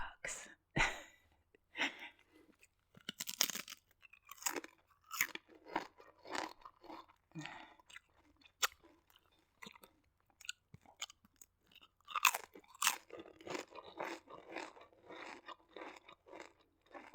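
Crisp crunching bursts of someone chewing dill pickle Lay's potato chips up close, irregular bites spread throughout, with occasional breaths between mouthfuls.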